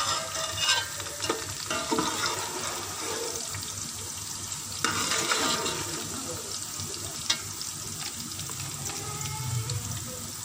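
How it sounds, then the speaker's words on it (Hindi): Cumin seeds hit hot oil with light golden fried onions, giving a steady close crackling sizzle with stirring scrapes and a few brief bumps, no voices. "अब इसमें मैं ये ज़ीरा शामिल कर दूंगी"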